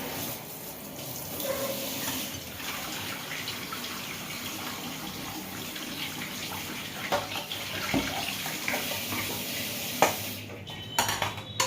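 Mangoes with bruise marks from being picked off the tree are rinsed under a running tap, a steady broad gush of water with splashing and occasional knocks of fruit and dishes in a sink, close and alone.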